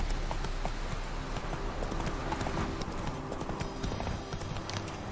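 Roach, a horse in The Witcher 3 video game, gallops with a steady, continuous clatter of hoofbeats that stays loud and close throughout, with no voices over it.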